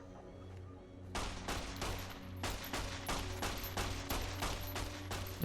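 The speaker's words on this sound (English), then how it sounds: "she's shooting through me" Gunfire in the video game Fallout New Vegas, a rapid volley of loud shots in quick succession after a quiet second, continuing steadily to the end.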